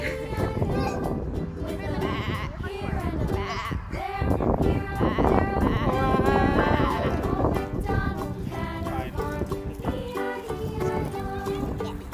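Sheep bleat repeatedly amid a busy farmyard of livestock and shuffling hooves, the calls overlapping and fairly close against a dense, continuous background.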